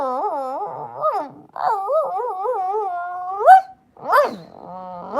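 A person imitates a dog with a run of yelping, whining barks and growls, close and loud, with drawn-out howling tones and short sharp yips in an uneven rhythm.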